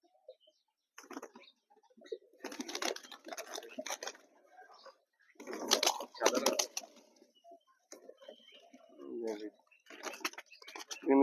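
Weakened pigeons coo softly in short bursts, with occasional wing flutters and shuffling nearby, fairly quiet overall.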